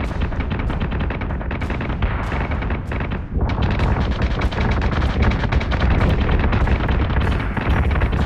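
Spaceship guns in the space combat game Battlestar Galactica Deadlock fire in a dense, continuous barrage of loud booming shots and explosions.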